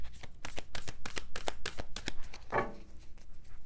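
An oracle card deck is shuffled by hand close up, with quick rhythmic riffles and flutters in a run of repeated bursts.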